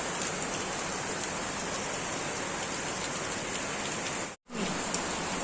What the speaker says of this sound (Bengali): চারিদিকে বৃষ্টি হচ্ছে প্রচুর